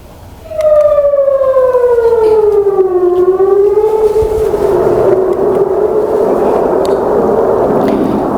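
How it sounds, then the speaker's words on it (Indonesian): An air raid siren wails across Tel Aviv during an Iranian ballistic missile attack, a loud sustained tone rising in, sliding down in pitch, then holding a steady drone over a wide distant roar. "Sirine serangan udara berbunyi di penjuru Tel Aviv saat rudal balistik Iran melintas di langit"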